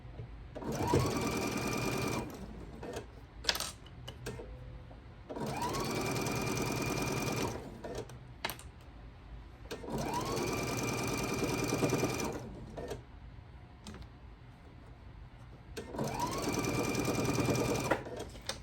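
A sewing machine stitches a quilt block in four long, steady runs of several seconds each, loud and close, separated by brief pauses with small handling clicks; no talk.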